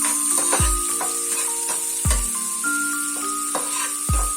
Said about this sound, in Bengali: গ্রেট করা আদাটাও দিয়ে দিচ্ছি। নাড়াচাড়া করে নিচ্ছি।